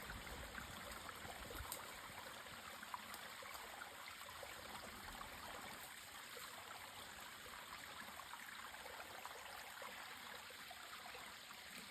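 A natural spring waterfall flowing steadily, a soft continuous outdoor rush of falling water heard from a short distance, faint and unbroken with no voices.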